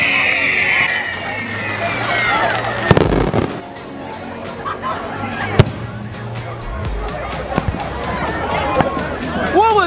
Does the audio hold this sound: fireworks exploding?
yes